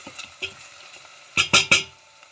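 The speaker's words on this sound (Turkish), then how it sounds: "ocağıma koyduğum soğanıma ağır kavrulmaya başladı" Plenty of onions frying slowly in a pot on a stovetop, with a faint steady sizzle and a few sharp clinks and scrapes of a stirring utensil against the pan, close and without talk.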